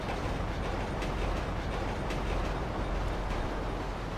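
A train rolls past in GTA 5, a steady loud rumble with rhythmic clickety-clack of wheels over rail joints throughout, no one talking.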